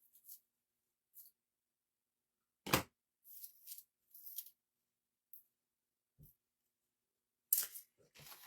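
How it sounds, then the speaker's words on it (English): Raffia being cut with scissors, heard as scattered short snips and rustles with quiet gaps between them, close and fairly soft. "So now let's cut our raffia."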